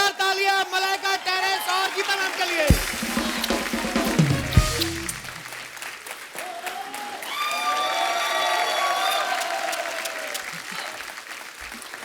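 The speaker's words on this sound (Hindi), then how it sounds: "जोरदार तालियां मलाइका, टेरेंस और गीता मैम के लिए।" A studio audience on a Hindi comedy TV show applauds the arriving guests with loud, dense clapping that swells and continues throughout, mixed with music and a host talking.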